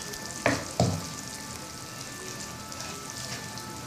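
Escalope frying in a hot pan for a Tunisian-style lasagna, a soft continuous sizzle with two sharp bursts near the start, close and low in level.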